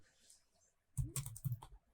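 A quick, quiet burst of several keystrokes on a computer keyboard, close by, after a near-silent pause.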